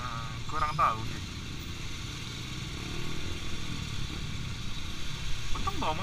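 Motorcycle riding through busy Indonesian traffic, engine rumble and clatter running steadily throughout with surrounding vehicle noise, a few brief horn-like tones near the start and end, and talk over it.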